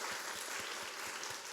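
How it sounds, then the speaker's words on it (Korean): Congregation clapping during a Sunday afternoon women's association dedication service in a church, a steady wash of hands with some rhythmic low thumps, moderately distant and even. "하나님께 영광의 박수를 올려드렸으면 좋겠습니다"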